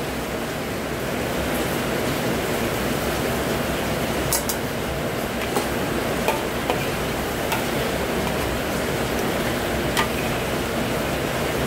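Vegetable sambal with tamarind water simmers in a pan, giving a steady soft hiss with occasional faint pops and ticks.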